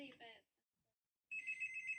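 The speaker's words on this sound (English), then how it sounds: "We have a phone call." A telephone rings during a live show, a steady electronic trill coming in after a short gap, with a brief burst of voices just before it.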